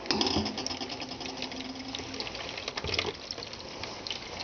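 Raw soymilk strained from ground soybeans, a close, steady trickle and splash of liquid pouring through a strainer, with faint clinks and handling noises and no talk.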